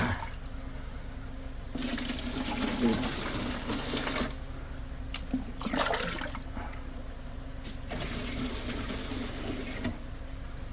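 Water runs and splashes steadily into a container at an iron-rich mineral spring in Cheongsong, a continuous pouring wash with brief louder bursts, close and fairly loud.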